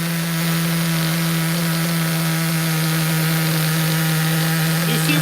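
HPI RS4 nitro RC car engine idling with upgraded clutch bearing and racing clutch, a loud, steady high-pitched buzzing drone held evenly throughout, close and unbroken.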